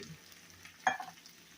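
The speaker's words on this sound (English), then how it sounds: "So we're going to just give it a stir." A spoon stirs a whole can of cream of mushroom soup into a green bean casserole, one short wet scrape and slosh, close and soft, standing alone over a faint background hum.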